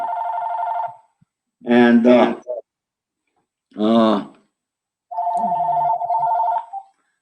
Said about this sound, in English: my phone rings